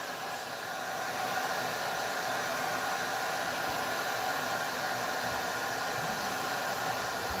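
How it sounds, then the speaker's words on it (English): A heat gun blows hot air steadily over an alcohol-ink tumbler, a loud, even, close-up rushing hiss that holds without a break. "as you go into it with your heat gun"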